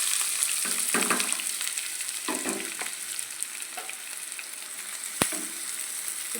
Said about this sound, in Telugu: ముందుగా తీసుకున్న ఉల్లిపాయలు ఆయిల్లో వేస్తాను